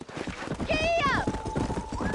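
A horse in the Red Dead Redemption video game gallops with rapid hoofbeats, a short whinny rising over them as a rider urges it on and voices speak.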